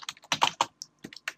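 A computer keyboard typed on during programming, with a quick close burst of clicky keystrokes in short irregular runs and a brief pause partway through.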